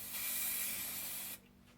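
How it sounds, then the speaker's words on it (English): Aerosol spray paint hisses onto homemade chess pieces in a single close burst of about a second and a half, then stops abruptly, leaving a faint room hum. "Then we can start spray painting."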